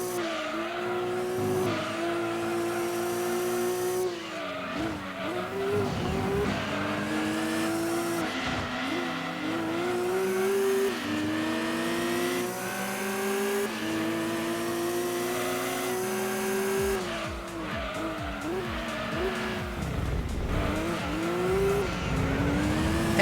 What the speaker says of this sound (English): The fact that I can hear others' turbos is pretty cool.